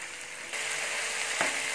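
Masala paste for chicken curry hisses and sizzles steadily in a hot pan, the frying growing louder partway through with a brief stir or scrape near the end.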